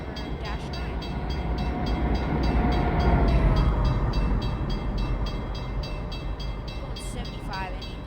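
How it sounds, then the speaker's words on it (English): BC Rail freight train led by a Dash 9 locomotive in the Open Rails train simulator, a steady rumbling roll of the engine and wagons that swells in the middle, with a brief horn-like tone near the end. "I need to slow this train down."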